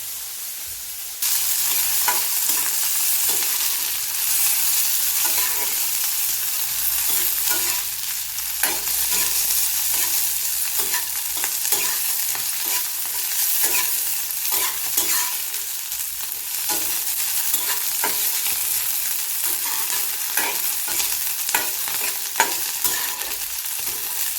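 Cluster beans roast in a dry pan for traditional gavar kharda while being stirred, giving a steady dry sizzle with constant scraping and rustling of the beans, close and continuous for over twenty seconds.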